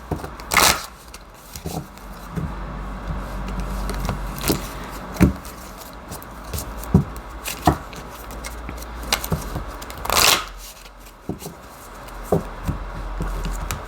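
A deck of oracle cards is shuffled by hand close up, with soft papery riffles and scattered sharp taps and slaps at irregular intervals. There is no talking.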